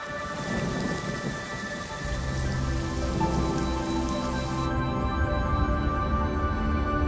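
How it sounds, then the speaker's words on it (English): Heavy wet-season rain pours down in Zambia, a dense steady hiss of downpour with a low rumbling undertone, joined partway by a sustained tonal music-like layer. "the same amount of rain falls in January and February as the entire rest of the year"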